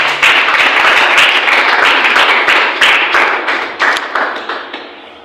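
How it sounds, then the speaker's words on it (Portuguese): A church congregation applauds for God's glory: a loud burst of many hands clapping, with a few sharp individual claps standing out, then thinning and fading out toward the end. "Aplaudimos para a glória do nosso Deus"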